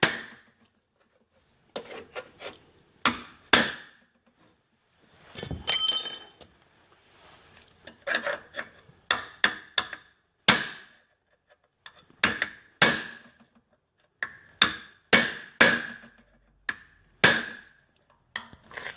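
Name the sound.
cold chisel hammered to remove rivets from a saw plate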